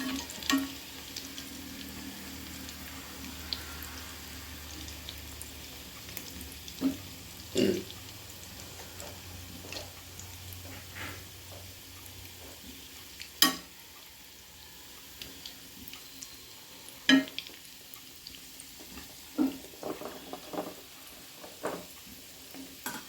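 Mutton kola urundai meat balls frying in oil over a medium flame, a quiet steady sizzle with occasional sharper pops and light clicks of turning, no talk.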